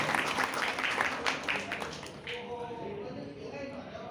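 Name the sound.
audience applause welcoming a guest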